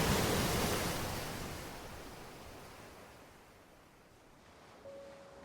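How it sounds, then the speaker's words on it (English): Ocean surf washes in a broad, steady roar that swells loudest at the start and slowly ebbs, heard alone without voices, in a scene from the anime Vinland Saga where a king commands the waves to recede. "I hear waves"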